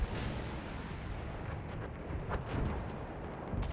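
Battlefield 1 gunfire and artillery during the Oil of Empires operation, with low rumbling booms and a few sharper bursts over a dense battlefield din.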